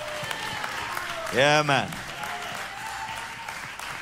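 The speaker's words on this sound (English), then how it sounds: "Somebody clap your hand and say a big hallelujah." A church congregation claps hands in a steady, dense patter throughout, while a preacher's voice rises briefly in a loud exclamation over it and other voices respond.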